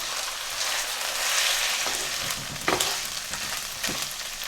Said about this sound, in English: after about 7 to 8 minutes of frying on a medium heat setting, the chicken has released all its water